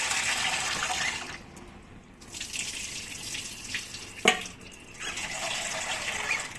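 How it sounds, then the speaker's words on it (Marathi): Chana dal being rinsed in a bowl of water, with running and sloshing water that stops briefly, resumes, and includes a sharp splash near the end, close and fairly quiet, with no talk. "ती पण 2 पाण्याने स्वच्छ धुवून घेते मी"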